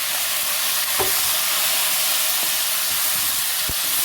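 Goat meat sizzles and fries in oil in a karahi, a steady loud hiss throughout with occasional soft clicks of stirring.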